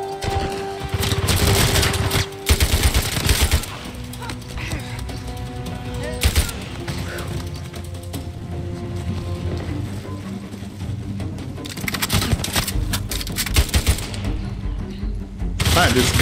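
Gunfire from a gun in Uncharted 4, repeated loud shots and bursts over a running battle with music, and a person talking at times between the shots.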